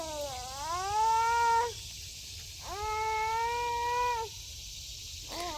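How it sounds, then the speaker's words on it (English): A baby carried in a carrier on an adult's back in a garden fusses with two long, wailing protest cries, each rising and then falling, separated by a short pause. The cries are fairly loud and close, with faint outdoor background noise between them. "Oh, those lovely baby noises."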